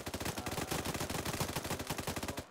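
Rapid bursts of machine gun fire rattle on without a break in a military video game, a dense, evenly spaced stream of loud shots filling the whole stretch.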